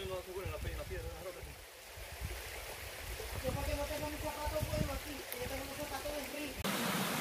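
A stream flows at Arroyo del Naranjito, on the way to Salto del Naranjito. It makes a steady, broad rushing wash throughout, mostly under people talking.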